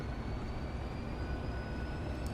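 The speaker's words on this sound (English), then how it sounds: "Chinese train rolls on ahead" A train in the Transport Fever game rolls along with a steady, broadband rumble and faint high tonal whine, continuous and moderately quiet, with no voices.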